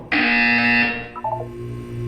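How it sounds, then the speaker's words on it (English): A loud electronic buzzer from the video game Portal 2 sounds as one steady harsh tone for about a second, followed by a short pair of softer chiming tones and a low hum. "When you hear the buzzer, look down at the floor."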